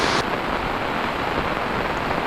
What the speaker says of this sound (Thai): ฝนตกแห้งดี